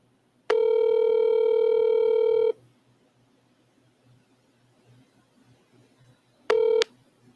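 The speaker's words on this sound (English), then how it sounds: "Wow, it's ringing on this one" Telephone ringback tone on an outgoing call: a steady two-second tone, four seconds of near silence, then a short start of the next tone, clear and fairly loud over faint room noise.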